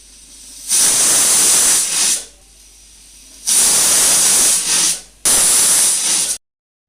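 A pressure cooker of chickpeas lets off steam in three loud hissing bursts, each a second or two long, separated by short quiet gaps.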